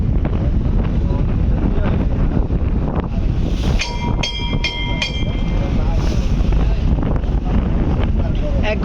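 Loud, constant roar of strong wind and rain buffeting a passenger launch travelling on a river in stormy weather, with engine rumble beneath and a brief tonal whine midway.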